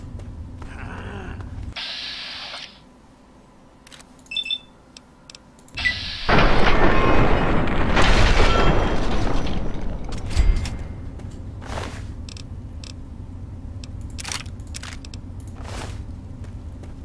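Fallout 3 game gunfire: a few sharp shots, then a long, loud, rumbling blast lasting several seconds that fades into a few scattered reports and clicks, set against a low ambient game hum.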